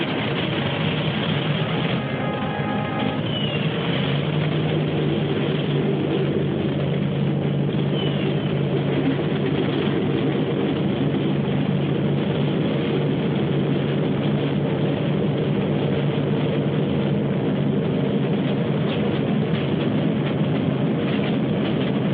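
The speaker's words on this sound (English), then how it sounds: "Start engines." Piston engines of a WWII bomber turn over and roar up together, a loud continuous drone with a low rumble that holds steady throughout with no voices.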